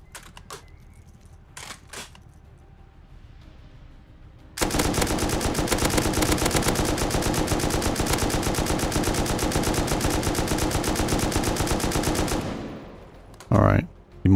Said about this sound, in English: Put some explosive ammo in there.